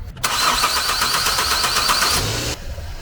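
A car engine cranks briefly, catches and settles into a loud, steady idle for a couple of seconds before the sound drops away, close by in a garage setting.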